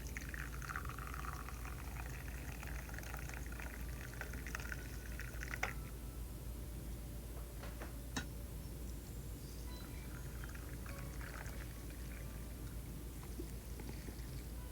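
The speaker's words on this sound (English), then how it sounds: "strain the tea, shake the French press a little bit, and then pour the tea into the cups" Earl Grey tea is strained from a French press and poured into cups, a soft, faint trickle of liquid with a few light clinks, quiet and steady throughout.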